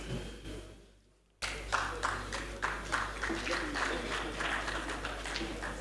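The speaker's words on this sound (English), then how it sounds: "That's not how you clap for a trusted trustee" Audience applause at a PDP Ekiti certificate of return ceremony, a brief lull and then sudden dense clapping that continues loud and steady to the end, with crowd noise mixed in.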